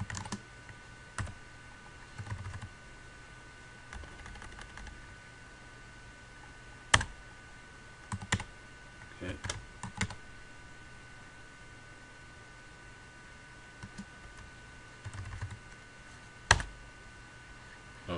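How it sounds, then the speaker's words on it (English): Sparse keystrokes on a computer keyboard entering commands in a CentOS 7 terminal: scattered soft clicks and taps, some clustered, over a steady faint hiss. "Okay, let's type pwd"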